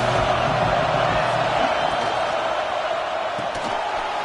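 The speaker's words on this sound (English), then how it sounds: "This crowd trying to make life miserable for this offense." Steady stadium crowd roar from a Madden football video game, a continuous loud wash of noise filling the whole stretch with faint hints of voices in the mix.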